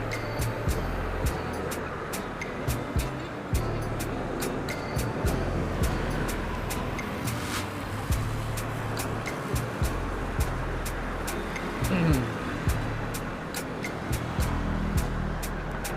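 Steady roar of busy traffic on a main road beside a toll gate on a toll road, continuous and moderately distant, with faint repeated ticking over the wash of passing vehicles.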